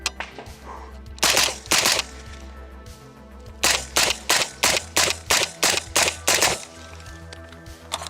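A suppressed Daewoo DR200 rifle fires loud, sharp shots: two spaced rounds, a pause, then a quick steady string of about eight more, with no talking.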